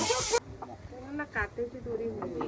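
Chickens cluck in short bursts close by, tied up, with a brief loud rush of noise at the start and a voice murmuring in between, in Konkan.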